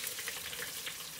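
Fatback fries in hot grease with a steady, close crackling sizzle full of fine popping spatters, continuous and even across the whole short moment.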